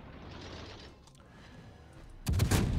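Salvo from the cruiser Fiji's main guns in World of Warships, a sudden loud burst of overlapping booms near the end after quieter engine and sea ambience.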